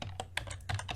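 Typing on a computer keyboard: several quick, soft key clicks in an uneven rhythm over about a second, close but quiet, over a low steady background hum.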